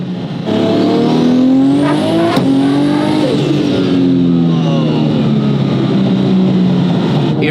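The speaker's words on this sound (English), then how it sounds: "I've just never felt an R34 accelerate like that." A 1500hp RB36-engined, paddle-shifted Nissan Skyline GT-R R34 accelerating hard, its loud engine note climbing through the revs, dipping briefly at a gear change, then pulling up again and holding a strong drone.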